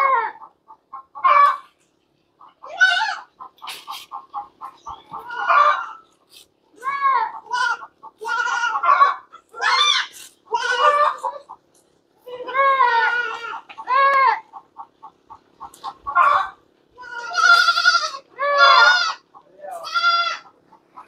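Goats bleat repeatedly on a rural farm during a drizzle, their wavering calls rising and falling in a steady succession of close, loud cries, with chickens clucking now and then in the mix.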